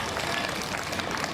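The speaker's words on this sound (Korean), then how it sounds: "이 두 분들에게 박수 한번 칩시다" Applause at an awards ceremony, a steady dense wash of many hands clapping without breaks, fairly faint and diffuse as if heard across a hall.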